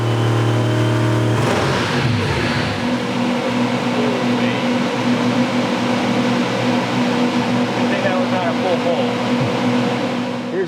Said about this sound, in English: try starting up another engine